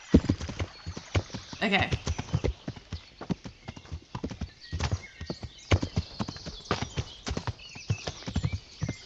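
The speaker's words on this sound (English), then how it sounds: "At least I have a horse now." Horse hooves clip-clop in a steady walking rhythm in the medieval game Kingdom Come Deliverance, close and clear, with a brief whinny early on and someone talking briefly over it.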